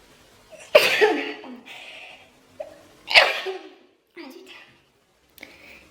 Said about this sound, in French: Et j'ai envie d'éternuer.